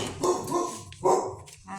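A dog barks indoors in two or three short, close bursts, fairly quiet and spaced apart, with no talking.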